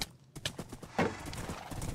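Horses in the video game Minecraft, with quick, irregular hoof clip-clops and a possible whinny, close and fairly loud, with no speech.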